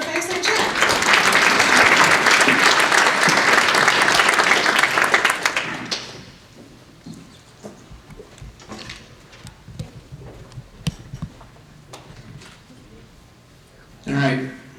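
An audience applauds to welcome speakers to a fireside chat at a Department of Defense business event, a loud steady crowd clapping that fades out after about six seconds, leaving quiet room noise and a brief thump near the end.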